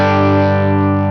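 A single sustained electric guitar chord rings through the Morgan Amps Suite plugin at a clean edge-of-breakup setting, loud and close with slight grit, decaying smoothly over about a second.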